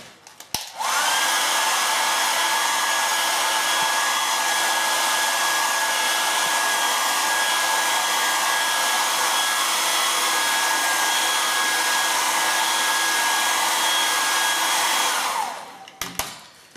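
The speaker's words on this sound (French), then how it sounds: "il vous suffit tout simplement de le réchauffer avec le sèche-cheveux comme ceci" A hair dryer warming chocolate blows steadily at full power for about fifteen seconds, loud and close, with a constant high whine, then switches off.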